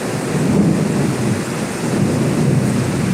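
Thunder during a loud storm in Kalibo rolls as a deep, continuous rumble over heavy, steady rain, loud and enveloping with no talking.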